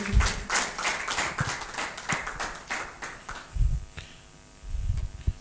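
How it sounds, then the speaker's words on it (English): Scattered applause from a conference audience at a climate action session in Rwanda, dense sharp claps early that thin out to a few isolated ones before fading. "a round of applause for her"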